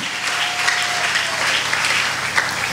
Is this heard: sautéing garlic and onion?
no